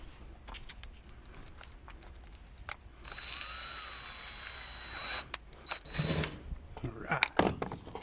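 A power driver sends a small 1/8 inch Tek screw into the steel wall of a Conex container with a sustained rising whine lasting about two seconds, followed by clicks and handling noises, while a person talks at times.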